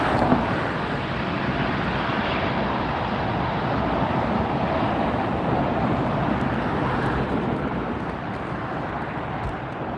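A KLM airliner departing LAX, a steady broadband jet roar that holds loud and even for the full stretch, with wind buffeting the microphone and no talking.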